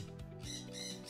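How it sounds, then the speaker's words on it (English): A sun conure parrot lets out a short, harsh, close squawk, loud and alone. "sun conure."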